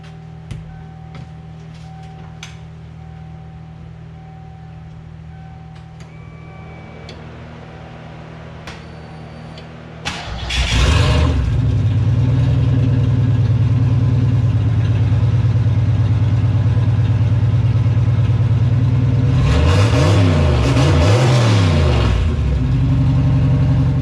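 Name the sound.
Ford Mustang Foxbody engine starting and revving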